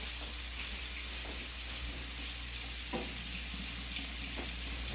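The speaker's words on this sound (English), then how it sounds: "Put it back in the pan. Let it sizzle a little bit more." Steady, soft sizzling and crackling of oysters searing in a frying pan continues throughout, with occasional small pops and no talking.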